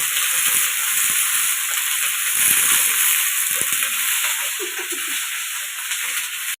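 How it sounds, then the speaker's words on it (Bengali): Eggs fry in a pan with a steady, loud sizzle and hiss that runs throughout, with a few faint kitchen clatters underneath. "কি ভাজি হচ্ছে রে ডিম ভাজা ডিম"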